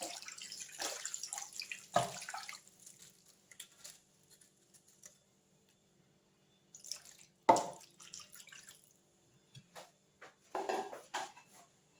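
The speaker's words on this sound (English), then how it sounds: "so I'm going to pour in some water." Water poured into a roasting pan holding a leg of lamb, heard as scattered drips, splashes and clinks of the pan in bursts with quiet gaps, close and fairly faint.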